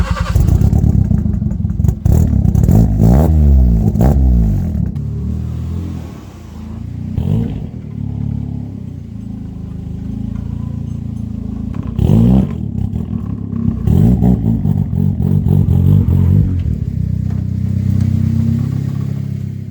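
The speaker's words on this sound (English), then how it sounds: "The tyre is rubbing against the arch and the car is literally squatting" A lowered Nissan Micra K11 on Corsa B coilovers drives with its rear tyre rubbing the wheel arch, giving a steady mid-range engine drone with rising revs, irregular scraping clatter and bursts, close and loud throughout.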